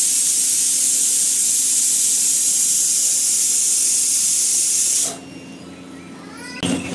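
A pressure cooker holding cluster beans lets out a long, loud, steady steam hiss for about five seconds, then drops to a quieter background with a brief burst near the end.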